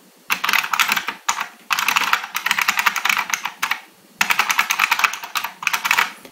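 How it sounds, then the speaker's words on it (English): Fast, clacky typing on a Unicomp Ultra Classic Model M buckling spring keyboard in several bursts separated by brief pauses, close and crisp, each keystroke distinct and loud. "now I'll leave you with me typing on it so you can get more of a sense of how it feels."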